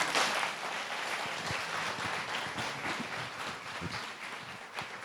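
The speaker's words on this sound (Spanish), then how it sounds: "Dele un aplauso al Señor." Congregation applauding during a church service, a steady wash of clapping from many hands at moderate loudness throughout.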